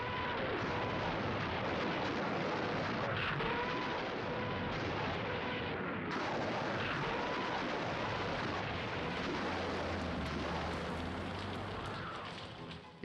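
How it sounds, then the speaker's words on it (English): Soviet artillery shells and rockets fire in a dense, continuous roar of rumbling blasts, loud and sustained as a battlefield barrage with no voices over it. "Soviet shells and rockets disrupt final German preparations"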